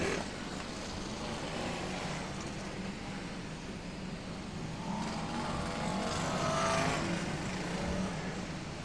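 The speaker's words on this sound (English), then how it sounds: "And the 406 car still there, goes through down to turns 1 and 2 from 21 Mark Gilbank and 202 Richard Mason," BriSCA Formula 1 stock cars race around an oval, a constant engine roar from several cars that rises as a pack sweeps closer and then eases off.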